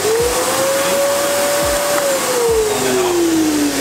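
A 700W bagless cyclonic vacuum cleaner with a 3L tank and HEPA filter whirs loudly and steadily up close, its motor whine rising then slowly falling as it runs, with a few low knocks.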